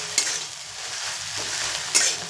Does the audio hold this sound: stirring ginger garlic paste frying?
yes